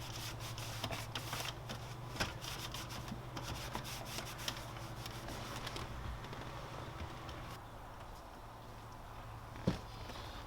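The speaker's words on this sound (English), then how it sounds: "Just going to wipe all this down, get all this junk out of here." Close, quiet, steady rubbing as the grimy interior of a 2001 BMW M3 E46 is wiped down around the shifter area, with occasional small knocks and no talking.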